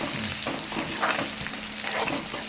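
Ingredients such as ginger, garlic, cashews and tomato sizzle steadily in a pan for ivy gourd kurma, a close, even frying hiss with faint stirring scrapes and no speech.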